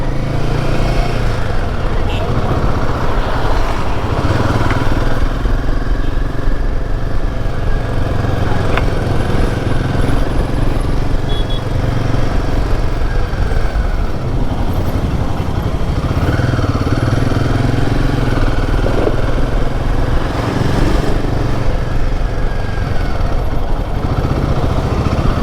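A Royal Enfield Himalayan 450 motorcycle is ridden on a mountain road from Munnar to Coimbatore, its engine a steady, loud, rumbling hum with wind noise throughout and a rider talking over it.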